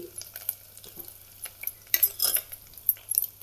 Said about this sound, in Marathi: हे खोबरं लसूण कुठल्याला ही पण तेलात टाकणार आहे टाकते आणि हळद पण तेलात टाकते